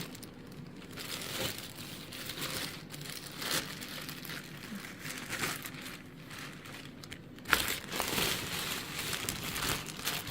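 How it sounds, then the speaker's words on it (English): Plastic film peeled off a new welding helmet and its electronic lens, giving close, steady crinkling and crackling for the whole stretch, with one sharper snap near the end. "Take the plastic off."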